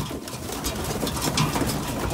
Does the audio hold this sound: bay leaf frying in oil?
no